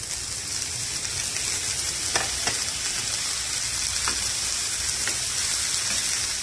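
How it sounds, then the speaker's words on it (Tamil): Chopped tomatoes with ginger and garlic sauté in a hot pan for a chickpea masala gravy, giving a steady, dense sizzle and fry throughout with a few soft stirring scrapes, close and continuous with no talk. "தக்காளி வந்து நல்லா சாஃப்டா குக் ஆகிற வரை நல்லா வதக்கிக்கலாம்."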